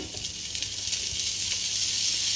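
Bacon and onions sizzle and fry in a pan, a steady close crackling hiss that builds slightly and carries on without pause, with no one talking.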